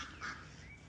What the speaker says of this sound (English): Loud ducks.